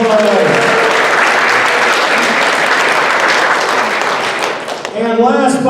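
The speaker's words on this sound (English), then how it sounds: "a round of applause" Audience applause at a sci-fi and writing convention opening ceremony, a loud, dense wash of clapping that holds steady for several seconds and then fades, with a voice speaking at the start and again at the end.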